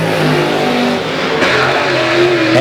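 A Capital race car with a GM 525 engine roars loudly and close, revving steadily with a rising pitch as it races, with no voices over it.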